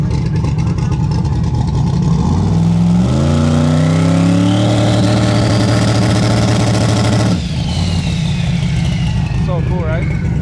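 A Ford Mustang Fox body at a drag strip revs hard, its engine note climbing in steady harmonic sweeps, then holding high before dropping off abruptly; loud and close, with voices and crowd noise underneath.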